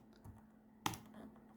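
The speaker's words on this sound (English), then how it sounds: "I press Ctrl in your keyboard" A single sharp key press on a computer keyboard, the Ctrl key, with a clear click near the end and a few faint taps before it, close and alone in a quiet room.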